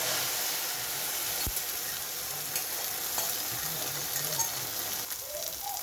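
Beaten egg and masala hit a pan of frying onions and sizzle steadily, with a constant hiss and occasional stirring scrapes throughout.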